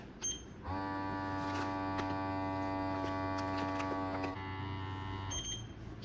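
A silver vacuum sealer runs in dry mode, a steady electric motor buzz with a tonal hum that starts after a click, holds for several seconds, then cuts off, followed by quieter handling noises.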